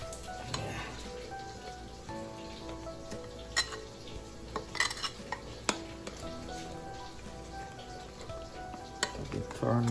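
A spoon stirs Guyanese beef curry in a pot, with soft scraping and scattered sharp clicks of utensil against metal over a low background hiss, close and fairly quiet.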